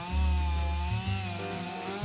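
A chainsaw cuts a notch into a cedar log with its chain in need of sharpening, the engine droning steadily loud and close, its pitch dipping and recovering as the blade bites into the wood.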